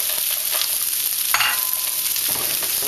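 Rice and frozen mixed vegetables sizzle loudly and steadily in a hot pan, a continuous bright hiss broken by a few stirring scrapes.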